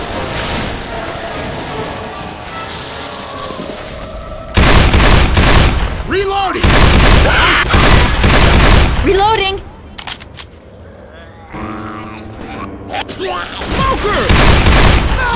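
Rapid bursts of gunfire in the zombie shooter game Left 4 Dead, loud and repeated, with shouted voices between and over the volleys and a quieter gap near the end.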